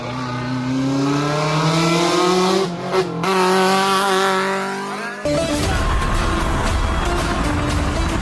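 Modified race cars run on a track, engines revving loudly with a steadily rising pitch, then a harsher broadband roar of tires squealing and engine noise takes over for the last few seconds.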